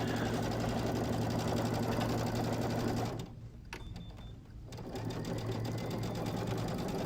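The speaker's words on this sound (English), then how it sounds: "so now we're going to just sew the other side" A sewing machine stitches the other side of a cupcake nine patch quilt block, its steady motor hum running loud and close, pausing briefly midway before resuming.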